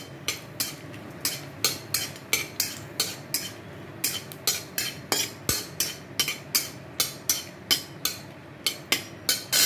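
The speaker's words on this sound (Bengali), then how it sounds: "আমি প্রথমে শুকনো লঙ্কাটা দিয়ে দিচ্ছি" Dried red chillies frying in hot oil in a pan, a steady run of sharp, evenly spaced clicks and crackles, close and fairly loud, about two per second, with no talk.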